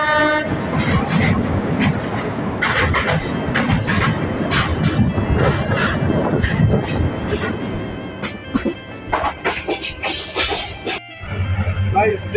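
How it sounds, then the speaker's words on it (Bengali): A very large train rolls steadily past at close range with a loud, continuous rumble and wheel clatter, a horn sounding along the way, and people's voices mixed into the din. "দেখুন বিরাট বড় আর একটা ট্রেন যাইতে আছে"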